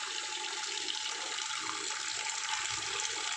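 Tap water running steadily into a kitchen sink with a leaking drain fitting, a continuous close hiss and splash that stays even throughout.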